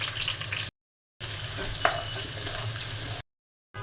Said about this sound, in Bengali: তেল দিয়ে দিচ্ছি, অল্প একটু জিরে দিয়ে দিলাম, দিয়ে দিচ্ছি পেঁয়াজ কুচি